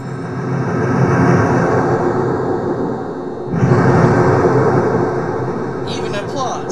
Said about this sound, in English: To explosions.